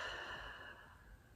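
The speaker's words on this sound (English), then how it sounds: "And taking in a deep intentional breath," One slow, deep breath is drawn in during a guided meditation, a soft, airy inhale that fades gently over just over a second, with no talking.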